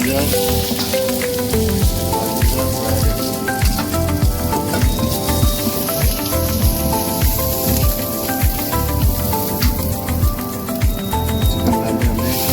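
Chicken pieces added to a hot pan with garlic and ginger for kung pao chicken, a steady, dense, close sizzle and crackle of frying that continues without pause.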